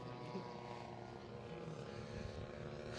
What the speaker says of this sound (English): More planes.